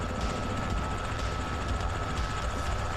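A helicopter in Microsoft Flight Simulator 2024 on a field mission near a lake, its rotor and turbine a dense steady whir with rhythmic chopping, continuous and fairly close with no speech.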